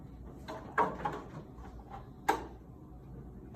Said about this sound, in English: And then I'm gonna get out her drawer.